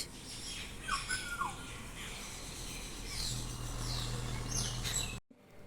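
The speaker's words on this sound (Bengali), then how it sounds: "পাখিটা যেন একটু বেশিই ডাকছে শুনতে পাচ্ছ পাখিদের আওয়াজ" Several short bird chirps and calls ring out over a steady low rumble, with one higher twittering phrase, before the sound abruptly cuts off.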